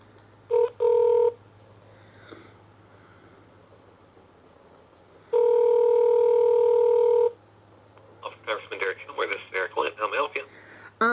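Telephone keypad tones sound over a speakerphone: a couple of short beeps, a long steady tone, then a quick rapid run of dialing tones against a low background hum.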